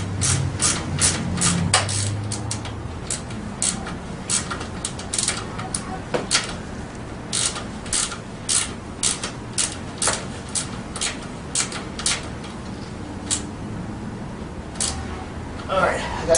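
A ratchet wrench clicks in quick, uneven bursts while a part is snugged down during assembly of a Tao Tao 90 dirt bike, close and crisp, with someone talking now and then.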